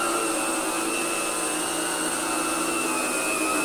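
A Sebo Duo-P dry carpet cleaning machine runs continuously over a rug, a loud, steady whirring drone with a high whine that holds level throughout.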